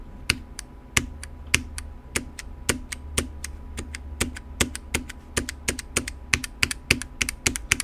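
Typing on an HHKB keyboard fitted with Dynacap keycaps, giving a steady run of crisp, close keystrokes. The clacks come at an uneven, quick rhythm, and no one speaks over them.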